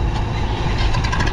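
An Eicher tractor engine labours up a freshly built mud ramp, producing a loud, low, throbbing rumble that stays steady through the short moment.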